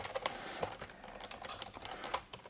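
Rapid, uneven keystrokes on a computer keyboard while typing text in Illustrator, light clicks close by in a quiet room.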